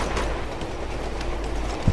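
A train rolls along in the video game Uncharted 2: Among Thieves, giving a steady rumbling clatter of wheels and carriages throughout, with no speech.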